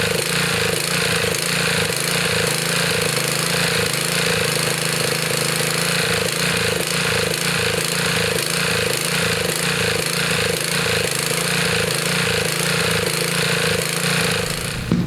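Honda GX-120 small engine on a used Little Wonder edger running steadily, a rapid rough chugging pulse with a metallic rattle, loud and close, running on without pause.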